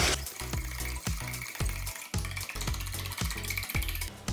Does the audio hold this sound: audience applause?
no